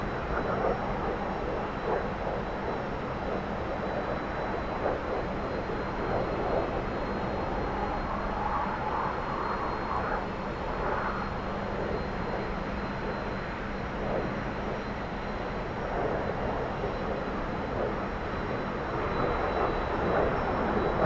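A T-45 trainer jet in flight in the DCS flight simulator makes a constant broad engine roar with a smooth whine, unchanging and fairly loud throughout, heard from the cockpit without voices.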